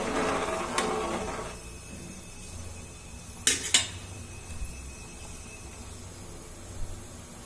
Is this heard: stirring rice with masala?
yes